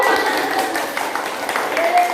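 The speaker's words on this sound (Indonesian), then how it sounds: "tepuk tangan" Schoolchildren clap together in a classroom. The clapping is a dense, steady patter under a teacher's voice.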